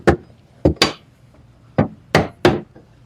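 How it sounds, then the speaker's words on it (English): Six sharp wooden taps as a band ring is knocked into place on a woodworking project, irregularly spaced single and paired knocks, close and crisp with no talking. "and just tapping the ring around"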